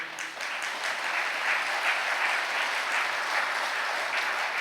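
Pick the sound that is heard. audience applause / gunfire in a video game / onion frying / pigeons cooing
audience applause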